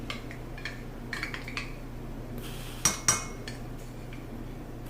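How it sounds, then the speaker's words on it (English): A spoon works sour cream into melted cream cheese, giving scattered light clinks and scrapes against the dish, with two sharper knocks near the middle over a quiet hum. "And just stir until it's combined"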